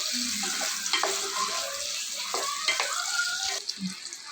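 Onions and cumin frying in a pan give a steady, close hiss of sizzling oil, with a few brief stirring scrapes mixed in.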